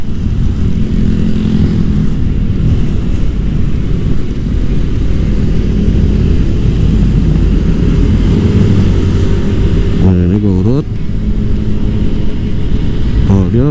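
A Vespa GTS 150 scooter accelerates slowly and steadily, its engine a loud, continuous close drone throughout, with the pitch climbing in a brief rising sweep near the end.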